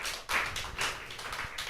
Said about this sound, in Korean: 박수 세게 한번 쳐봐요.